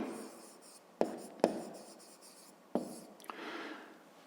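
Pen writing a fifth-grade maths solution on paper: soft scratchy strokes broken by several sharp taps and clicks, with a rubbing swish toward the end.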